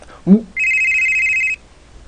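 A single telephone ring burst, a bright steady electronic trill lasting about a second, sounds during a Korean pork-rib mukbang, with a short vocal sound just before it.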